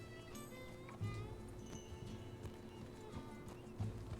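Horse hooves clip-clop at a steady trot in the video game Red Dead Redemption 2, with an occasional faint whinny and light game ambience underneath.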